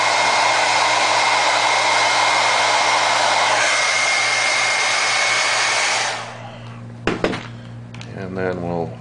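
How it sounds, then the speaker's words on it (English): A hair dryer blows steadily and loudly for about six seconds while drying light paint on a dark rubber cosplay mask, then cuts off, leaving brief handling clatter and a voice speaking. "So I'm going to hit it with a hairdryer."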